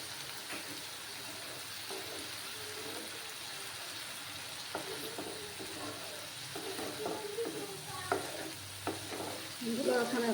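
Ginger and garlic paste frying with onions in a pan for a small fish curry gives a steady, fairly quiet sizzle, broken by scattered scrapes and clicks of stirring that get busier and louder toward the end.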